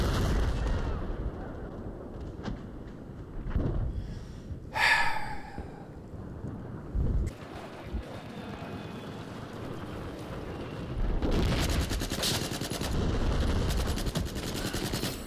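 Gunfire in Battlefield on a large multiplayer map: scattered shots and short bursts over a busy battlefield background, building to a denser, louder stretch of rapid fire near the end.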